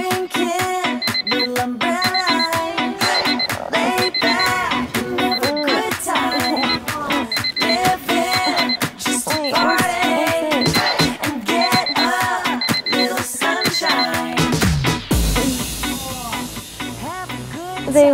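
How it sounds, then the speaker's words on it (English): A phone alarm plays a loud repeating electronic melody for about fifteen seconds, then cuts off to a hiss and rustle. "set an alarm on Anna's phone so that they wake up"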